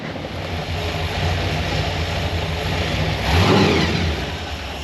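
A supercharged C10 truck's engine idling, a steady rumble running throughout, swelling slightly louder near the end before easing back.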